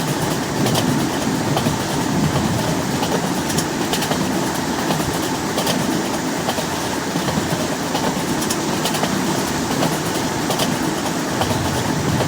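A train in an Indian train simulator video game rumbles along continuously with a steady rhythmic clatter, loud and close throughout.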